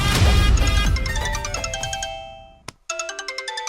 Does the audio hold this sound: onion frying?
no